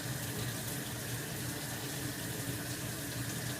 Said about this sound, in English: Just open your package and thoroughly rinse off each piece of turkey